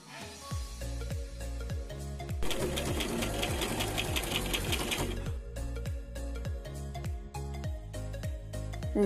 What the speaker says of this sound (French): Je viens coudre le bord intérieur du pli.